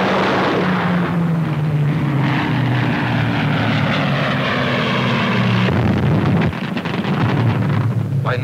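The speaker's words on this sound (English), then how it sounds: "Continuous drone of Halifax's, Wellington's," RAF Halifax and Wellington bombers of 1942 pass over Dover, their propeller engines making a loud, continuous droning hum that shifts slowly in pitch, with wind buffeting the microphone.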